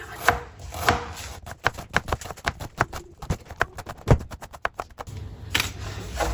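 Bitter gourd (karela) chopped with a knife on a board, a quick irregular series of sharp close taps and thuds.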